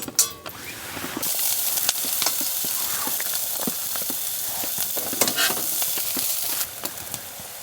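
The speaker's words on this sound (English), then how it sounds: "garlic and ginger, and we'll saute that." Garlic and ginger sauté in hot coconut oil in a pan at a rainy campsite, giving a steady close sizzle with scraping stirs and clicks throughout.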